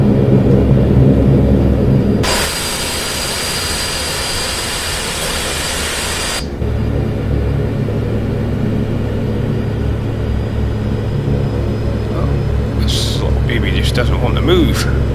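Both throttles of an aircraft in a flight simulator game spool the engines to a steady jet roar, with an abrupt louder hiss partway through, over a continuous low drone and faint clicks near the end.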